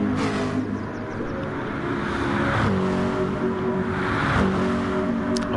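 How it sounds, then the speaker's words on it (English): Group 2 racing cars in a racing video game streaming through Eau Rouge and up Raidillon at Spa, engines droning loudly with several overlapping revving passes and pitch sweeps as cars go by. "as the cars stream through Eau Rouge up through Raidillon"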